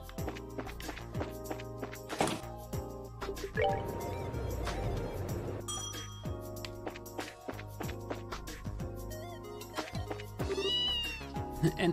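Repeated cat meows from the video game Trails in the Sky, short chirpy game-style cries over looping background music and clicky sound effects, with a wet squishy burst partway through.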